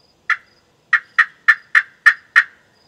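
A slate pot turkey call gives seven short, sharp yelp-like notes in an uneven rhythm, loud and close, with silence between them.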